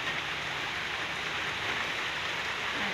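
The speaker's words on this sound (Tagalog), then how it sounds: "ito na yung ulan dito sa amin sa Laguna" Heavy typhoon rain pours steadily in Laguna during Typhoon Rolly, a dense, even hiss of drops hitting surfaces with no break, close and loud throughout.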